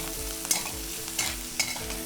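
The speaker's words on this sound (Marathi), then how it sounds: "वाटण छान परतलं की गवार मिसळून याला दोन मिनटासाठी परतून घे" Cluster beans stir-frying in spice paste, a close, soft sizzle with a few quick scrapes of a spoon stirring through the pan.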